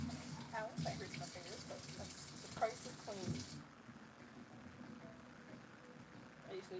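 A bowl is rinsed under a running kitchen tap, the water gushing for a few seconds before cutting off, with someone talking over it and some clinks of the bowl.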